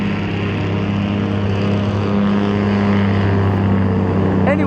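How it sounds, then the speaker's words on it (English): A noisy truck engine drones steadily and loudly from start to end, a heavy low rumble that holds even with no break. "Terrible noisy truck from hell."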